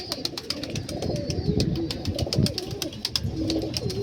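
Malwai pigeons, freshly bathed and still partly damp, cooing close by in soft repeated throaty phrases, several birds overlapping, with light clicking and rustling around them and no talking.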